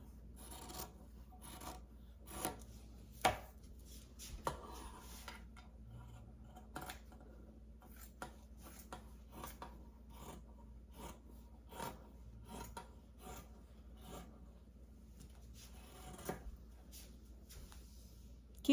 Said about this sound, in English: Keep cutting until you go all the way around.